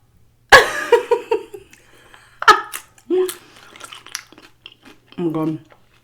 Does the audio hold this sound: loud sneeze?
yes